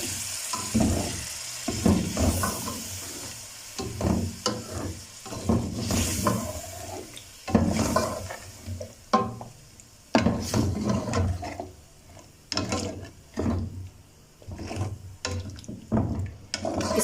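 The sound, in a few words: stirring yogurt into chicken karahi in a pan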